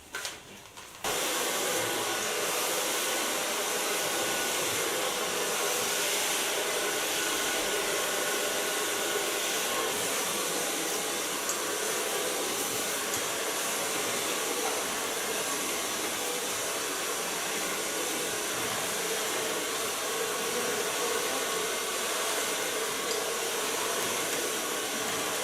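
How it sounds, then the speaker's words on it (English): A hair dryer blows on hair being blow dried with a large brush, switching on abruptly and then roaring in a loud, steady, unbroken whoosh up close, with no talk. "Start blow drying with a large brush."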